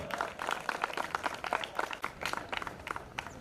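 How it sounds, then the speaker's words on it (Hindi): A festival audience at Rengali Mahotsav 2025 applauds in a steady, dense patter of many hands, moderately loud and continuous throughout, with a faint murmur of voices underneath. "करताली दे जोरदार स्वागत करो"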